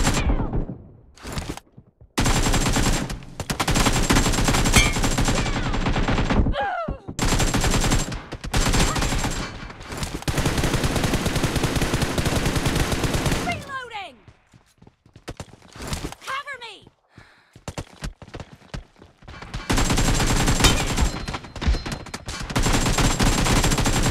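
Rapid bursts of gunfire from the PUBG (BGMI) mobile game playing on a OnePlus 10 Pro. Loud, dense automatic fire comes in repeated volleys separated by short lulls, with footsteps and someone talking over the action.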